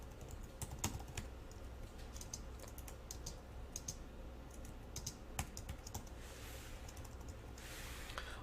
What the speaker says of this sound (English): I start typing the next line of code